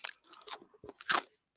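A fortune cookie is bitten and crunched up close in a few short, sharp crackling bursts, the loudest crunch near the end, with no talking.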